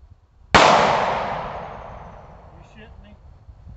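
A single loud, sharp gunshot from a Taurus Model 605 .357 Magnum revolver cracks close by and rings out in a long fading decay, with faint voices murmuring near the end.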